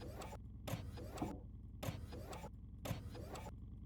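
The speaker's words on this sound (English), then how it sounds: "Why am I still able to hear the 3D printer going all the way over here?" In the game Occupy Mars, a 3D printer runs with repeating motorized whirring bursts about every second, faint and mechanical, broken by brief near-silent gaps.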